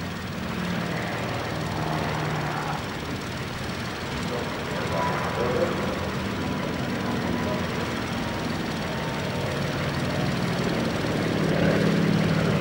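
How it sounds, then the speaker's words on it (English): A Mil Mi-34 light helicopter flies a display at the Farnborough airshow, its rotor and engine giving a continuous broadband roar that swells slightly toward the end, with commentary spoken over it. "Another little Russian trainer that's been impressing the Farnborough crowds is the stylishly painted Mil Mi-34 helicopter."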